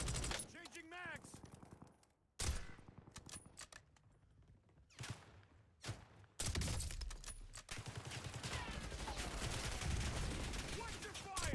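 Gunfire in Grand Theft Auto V: loud bursts of automatic weapon fire come in clusters with brief gaps, turning into sustained, dense shooting during the second half, while voices shout over the combat.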